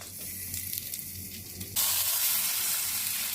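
Raw mango pieces for a sweet-sour pickle hit hot oil, bursting into a sudden loud sizzle that continues as a steady, close frying hiss after a quieter start.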